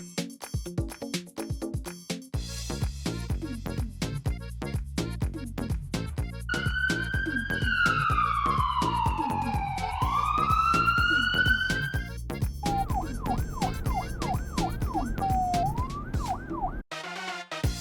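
A cartoon ambulance siren wails loudly, sweeping up and down and then switching to a faster yelp, over a busy rhythmic background.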